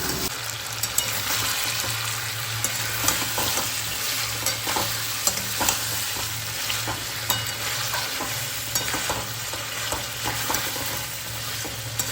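Marinated meat fries in hot oil with cardamom, hissing in a constant strong sizzle. Repeated scraping clicks come from the spoon as it is stirred. No voices.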